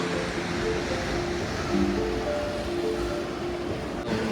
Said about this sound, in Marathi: आणि इथे बाजूला समुद्र.